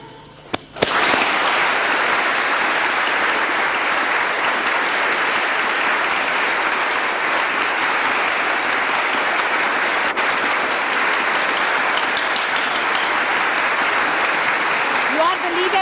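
Sustained applause from a large audience at a Sahaja Yoga program with European and English leaders, steady dense clapping after a brief sharp start and holding loud and even throughout.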